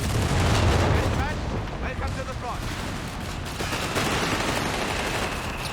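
Flak gunfire in Company of Heroes 3 during a 4v4 World War II battle, loud and dense, with heavy rapid bursts and booms filling the clip and a voice speaking over the din.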